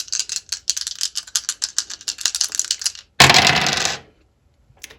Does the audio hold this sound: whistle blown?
no